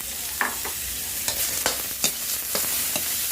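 Pork tossed into a hot wok for a Thai Isan curry, with a steady sizzle of frying and several sharp scraping stirs of a spatula against the pan, close and clear with no talking.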